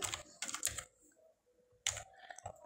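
Someone types a name on a computer keyboard, two quick bursts of close key taps separated by a short pause, with no talk.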